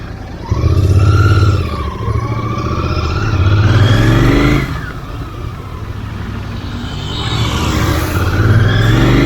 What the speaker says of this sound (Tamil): இப்போ நம்ம வந்து ராயல் என்ஃபீல்ட் GT 650 ஓட்ட போகிறோம்